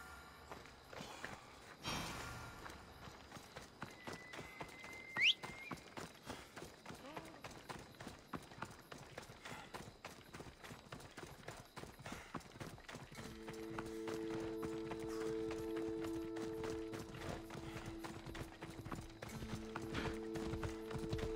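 Horse hooves gallop while riding in Assassin's Creed Odyssey, a fast, dense drumming of soft hoofbeats throughout, with a brief breathy snort early and a sustained musical tone entering later.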